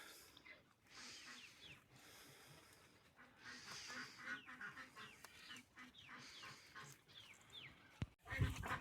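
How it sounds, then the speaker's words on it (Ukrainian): Several ducks quack and chatter in a busy outdoor flock, with scattered higher bird calls and a sharp knock near the end. "Відкриваю вже всіх качечок. Ось ці нові наші чудово себе поводять."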